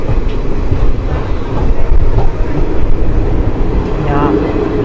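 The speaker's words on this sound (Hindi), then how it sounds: "यहाँ पर हमारी ट्रेन 2 मिनट रुकी and then we get departure signal." An Ahmedabad–Jammu Tawi Express sleeper-class train pulls away from a halt at Kapurthala, a loud steady rumble of wheels and carriages with a faint rhythmic clatter running throughout.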